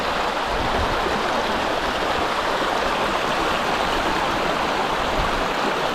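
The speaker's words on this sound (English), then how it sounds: "Waterfall in the background." A steady, loud rush of falling water fills the whole stretch, broad and unbroken with no other sounds standing out.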